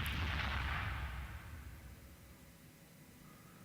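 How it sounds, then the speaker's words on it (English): A deep booming explosion effect from the ICBM video game, loud at first with a rumbling low end and a sharp crackling burst, then fading into a long decaying roar. "I love that explosion transition."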